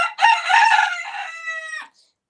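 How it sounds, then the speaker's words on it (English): A rooster crows once in the morning, a single loud, close call that rises and holds for nearly two seconds before breaking off, with no other sound around it. "as you hear the bowl and bird song this morning"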